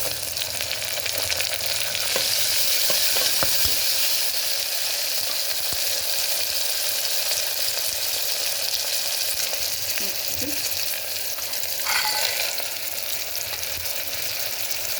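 Onions and tomato frying in a pan, a continuous even sizzle with occasional stirring clicks and scrapes, no talking.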